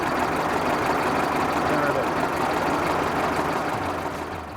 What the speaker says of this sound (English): There's that great big Leyland engine number 12320.